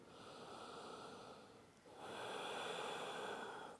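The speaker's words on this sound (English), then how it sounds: "deep breath out." Slow, steady breathing during a yoga stretch for the upper back and shoulders, with a soft airy exhale that swells louder in the second half, close and unaccompanied by talk.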